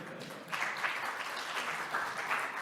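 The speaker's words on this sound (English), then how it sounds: "I'd like some applause." A crowd applauding steadily for a couple of seconds, a dense wash of clapping at moderate volume with no voices over it.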